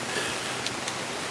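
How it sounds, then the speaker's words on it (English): Rain falling steadily at a countryside campsite in North Wales, a soft continuous hiss with no distinct drops standing out, fairly faint and even throughout. "The rain has returned."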